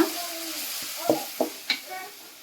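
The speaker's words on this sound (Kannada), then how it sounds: "ಟೊಮೆಟೊ ಎಲ್ಲ ಫ್ರೈ ಆಗಿರ್ತಾವಲ್ಲ" A soft tomato base fries in oil in a pan for boiled egg gravy, with a few quick scraping stirs over a low sizzle and no voices.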